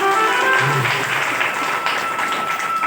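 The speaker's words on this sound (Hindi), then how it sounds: "एक बार ताली बजा दो।" A crowd of people clapping at a devotional gathering about women's home kirtan, a steady dense patter of applause held at an even level throughout, with faint voices mixed in.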